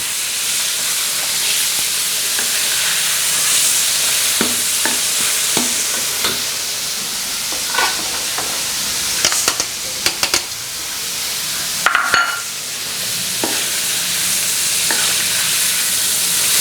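Shrimp deep-fry in hot oil with garlic, cooked in batches until crisp, producing a loud, dense, continuous sizzle and hiss with scattered sharp pops and scraping clinks, close up and without talking.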